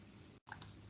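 Two sharp computer mouse clicks in quick succession, close and fairly crisp, following a brief moment of silence over light background hiss.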